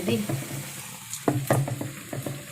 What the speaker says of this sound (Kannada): ಎಣ್ಣೆ ಬಿಸಿಗಿಟ್ಟು ಒಂದೊಂದೇ ಅದ್ದಿ